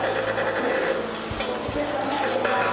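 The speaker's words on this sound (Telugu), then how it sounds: "జస్ట్ ఒక్క 2 minutes ఫ్రై చేసుకోండి" Gongura leaves dry-frying in a pan, a dense close sizzling rasp with soft scraping stirs and a low steady hum beneath, with no talking.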